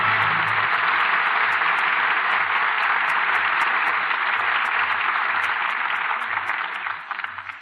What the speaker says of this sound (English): here are our stars who certainly deserve your applause